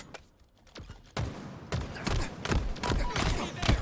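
Rapid bursts of video game gunfire crack out in uneven clusters, quiet at first and then louder and denser, with sharp close shots stacking into a steady barrage.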